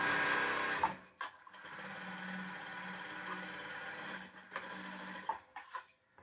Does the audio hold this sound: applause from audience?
no